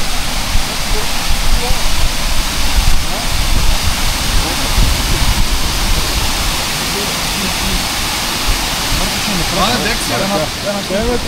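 Waterfall on a ride through the Strandzha area near Primorsko, a loud, steady broadband rush of falling water that runs for the whole stretch with faint voices underneath.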